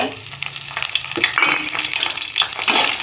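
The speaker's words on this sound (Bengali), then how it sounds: "তেলটা গরম হওয়ার পর কড়াইয়ে বড়ি দিয়ে দেব" Steady hiss and crackle of lentil dumplings frying in hot mustard oil in a wok, close and continuous, with occasional louder spits and pops.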